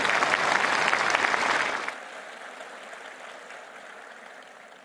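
Audience applause at the Bharat Tex 2025 textile industry event in New Delhi, a loud, dense clapping from a large hall crowd that fades after about two seconds into a quieter room murmur.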